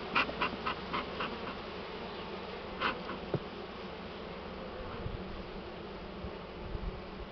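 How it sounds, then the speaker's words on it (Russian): Honey bees buzz in a steady, close drone while a beekeeper handles the hive during honey harvest, with a few sharp scraping clicks and knocks near the start. "Ну, пчелы, они есть пчелы."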